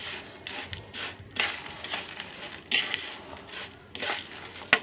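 Crispy shredded fried potatoes (jhuri aloo bhaja) crunch and rustle in a series of close, dry crackling bursts, with sharper clicks at intervals and no talking.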